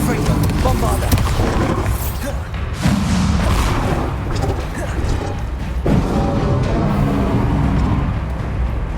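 Bombarda explosion spell in Hogwarts Legacy during a fight, heavy booming blasts and crashing impacts layered over a dense, loud combat din, with a voice speaking throughout.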